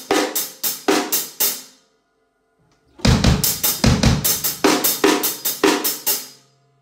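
A drum kit plays a groove section: a short run of crisp, evenly spaced hits, a brief pause, then a denser, steady pattern of snappy strikes and kick thumps, close and loud, with no talking.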